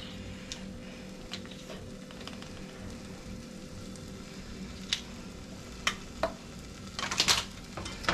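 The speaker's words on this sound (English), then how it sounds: "Gotta keep stirring." A butter, milk and flour sauce with nutmeg is stirred in a pan on the stove, a soft continuous scraping and gentle bubbling sizzle with a few sharper clinks of the utensil against the pan near the end.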